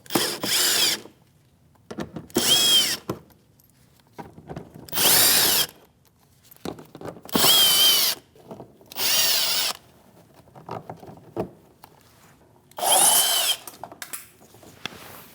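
Power drill fitted with a 7mm socket backing out fender liner screws on a 2016-2025 Chevrolet Malibu, five or six loud whirring bursts of a second or so each, separated by short pauses, close to the microphone with no talk.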